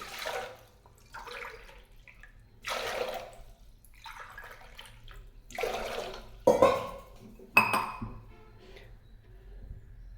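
Water is poured into a pressure cooker in several separate splashing pours, each a few seconds long, close by and with no speech.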